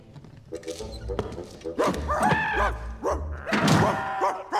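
A man imitates a dog barking for a Barbie animated movie, several short gruff voiced barks with thumps in between, close and fairly loud.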